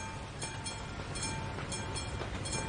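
A train rumbles past in Euro Truck Simulator 2, a steady low rolling roar with faint rhythmic clacks, heard close and continuous with no voices.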